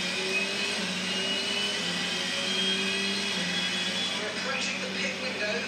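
A Formula 1 car in F1 22 screams at high revs, its engine pitch dipping and rising as the throttle comes off and goes back on, with a steady whine heard alone.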